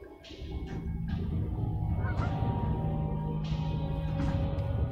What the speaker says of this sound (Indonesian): Ini ayam apa? Ayam galgun?